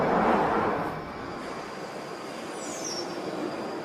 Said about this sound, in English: Stand clear of the doors, please. Train's ready to leave.